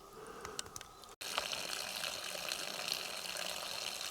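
A small tapped spring pours in a steady close-up trickle and splash, with a few drips and a brief cutout before the flow resumes at a constant level.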